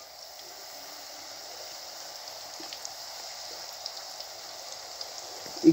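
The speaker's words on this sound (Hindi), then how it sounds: "तेल गर्म हो गया, हुण मैं दे आलू पाउण लगी हाँ फ्राई असे" Potatoes fry in hot oil with a steady, fine crackling sizzle, fairly faint and continuous, broken by occasional small pops and no voices.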